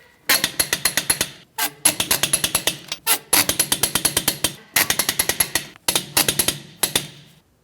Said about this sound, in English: Let's go ahead and torque these in a crisscross manner.